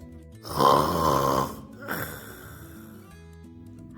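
A dog snoring: a long rasping inhaled snore, then a shorter snort-like breath, close and moderately loud, fading to quiet at the end.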